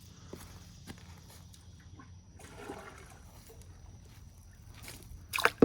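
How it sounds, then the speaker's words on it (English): Hot water is poured into an outdoor basin of shaved soap for washing fleece, with a soft splashing pour in the middle and a louder sloshing burst near the end, over faint background noise. "Now I'm putting hot water in with the soap."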